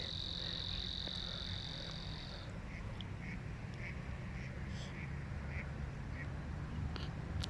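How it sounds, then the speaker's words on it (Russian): Ducks quack at a lake at night: a string of short, fairly distant quacks repeats at a loose rhythm, with a steady cricket trill underneath at first. "Утки крякают."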